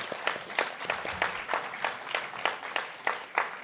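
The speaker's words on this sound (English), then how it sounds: "Round of applause for our." Applause from an audience at a mayoral election debate night in Calgary, with individual claps standing out in a loose, uneven rhythm, fairly faint and distant.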